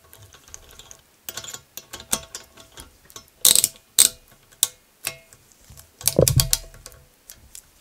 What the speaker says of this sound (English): get my flywheel puller